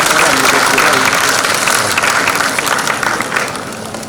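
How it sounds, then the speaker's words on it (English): An auditorium audience at an AI Fusion inaugural session in Kakinada applauding as a university vice chancellor arrives on stage, a dense roar of clapping that fades gradually, with a voice speaking over it. "onto the stage with a thunderous round of applause"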